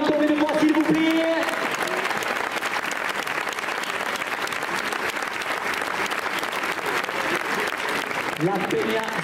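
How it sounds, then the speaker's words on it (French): Sustained applause from a large audience at a race in Mauguio, France, steady and loud throughout, with a few voices and brief tones mixed in near the start. "On peut l'applaudir encore une fois s'il vous plaît"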